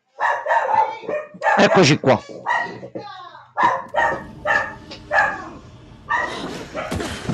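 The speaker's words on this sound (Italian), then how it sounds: "c'ho il cane di mia sorella qua, quindi se sentite abbaiare in sottofondo" A sister's dog barks repeatedly in the background, several sharp yaps and barks mixed with a person talking close by in a game-streaming setting.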